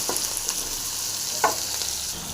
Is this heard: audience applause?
no